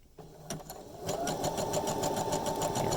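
A sewing machine stitches thread or yarn into cording made from scraps, starting with a couple of single stitches before settling into a fast, steady mechanical whir of rapid, even needle strokes, close and moderately loud.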